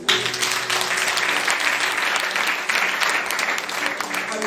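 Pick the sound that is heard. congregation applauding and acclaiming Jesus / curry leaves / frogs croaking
congregation applauding and acclaiming Jesus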